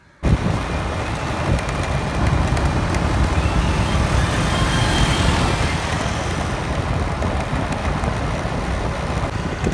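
A car speeds along a road, its engine and tyre and wind roar loud, close and steady throughout after a sudden start, with no talking.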